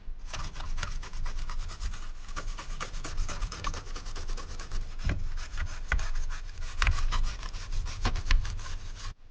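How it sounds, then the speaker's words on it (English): Vigorous scrubbing of a Macintosh 512K computer part, a continuous dense rubbing and brushing sound with rapid back-and-forth strokes, close and fairly loud throughout with no talking. "Let's just give it a nice scrub then."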